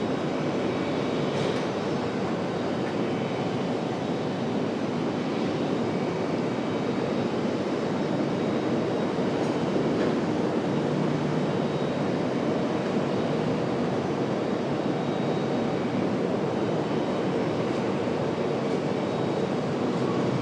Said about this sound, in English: Here comes our A220 back to Minneapolis.